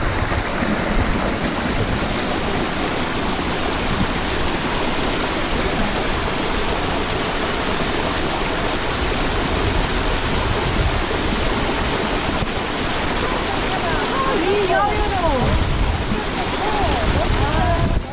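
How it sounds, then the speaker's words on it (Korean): A waterfall on the Horsethief Butte hike roars as a steady, dense rush of falling water that holds evenly loud throughout, with faint wind and a few brief higher chirps near the end. "폭포가 여기"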